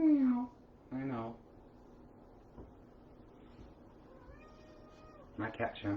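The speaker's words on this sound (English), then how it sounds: "This is Shambles, the tuxedo cat, because he's got white under his neck there." A tuxedo cat meows indoors, giving two clear, close meows at the start and another burst near the end, with quiet room tone between them.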